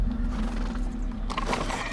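A horse in Sherlock Holmes: The Devil's Daughter whinnies loudly over a steady low rumble, with hoof clatter and a rising burst of noise near the end.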